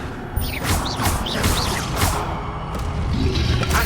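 Spells cast in the Hogwarts Legacy game, including fire and shield charms, a close sequence of magical whooshes, bursts and chirping sweeps over a dense, steady game soundscape.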